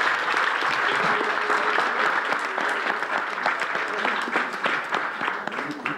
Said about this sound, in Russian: Ваши аплодисменты были справедливыми.